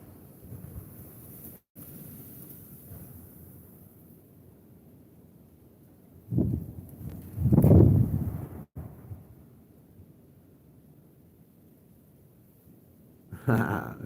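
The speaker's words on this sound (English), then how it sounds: "Man, this wind is friggin' insane." Strong outdoor wind buffets the microphone in low, rumbling gusts, with a quiet steady roar that swells into a loud blast before easing and returning near the end.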